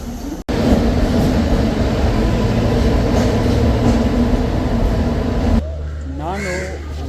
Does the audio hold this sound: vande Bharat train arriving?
yes